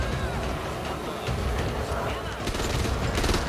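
Dense bursts of gunfire from the zombie shooter video game Back 4 Blood crackle in rapid succession, mixed with game effects and a voice talking over the action.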